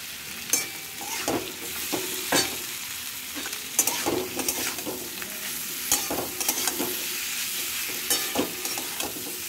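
Potatoes and paneer sizzle in a pan while a spatula scrapes and stirs them, with sharp clinks and scrapes repeating every second or so over a soft, continuous frying hiss.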